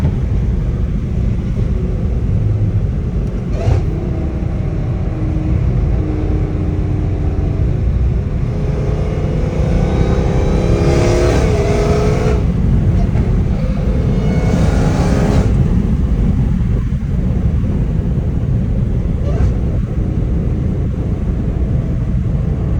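Dodge Hellcat Redeye accelerating hard and shifting gears on a Los Angeles road: a loud, steady engine roar from inside the car, with rising engine pitch building in surges around the middle before settling back to a rumble.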